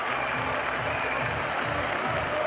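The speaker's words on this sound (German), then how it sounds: "Und der Jubel natürlich riesengroß." A football stadium crowd roars after a goal by SK Austria Klagenfurt, producing a dense, continuous wall of cheering and clapping with heavy low rumble underneath.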